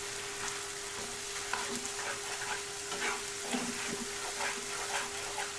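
Spinach with salt, chili powder and turmeric is stirred in a sizzling frying pan, a steady close frying hiss with soft scraping strokes of the spoon, and no voices.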